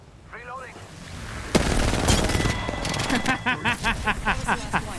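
Gunfire in the video game Apex Legends: a sudden loud burst, then a dense run of rapid shots trailing into a rhythmic string of distinct cracks, with an earlier faint effect.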